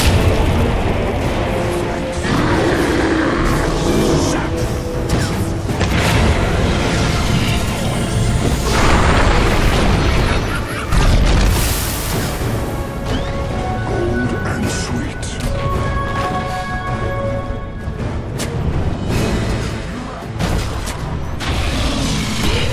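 Dota 2 Blast Off explosion, a heavy in-game blast landing amid dense battle booms, crashes and clashing effects with game music, sustained and loud throughout.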